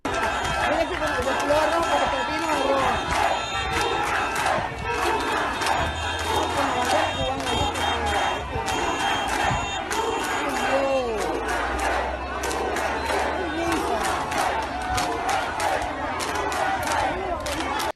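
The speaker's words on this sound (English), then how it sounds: "Let's take a listen in and watch the crowd." Large street protest crowd in Havana, Cuba, shouting and yelling continuously at close range, a dense roar of many voices with overlapping cries and chatter throughout.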